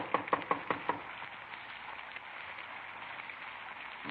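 Five quick knocks on the front door of a small redwood house, sharp and close, followed by quiet room tone.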